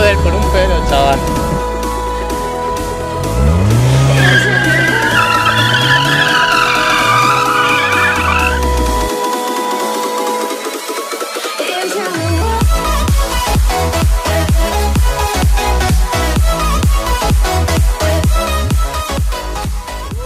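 A BMW car drifting, with loud, drawn-out tire squeal and skidding plus a revving engine, then a rapid rattling stretch, while someone talks excitedly over the action.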